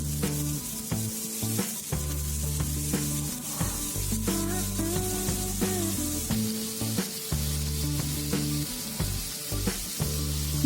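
Potatoes fry in a pan with turmeric powder, a steady close sizzle with occasional scraping and clicking stirs, all under a constant backing of music and without any talk.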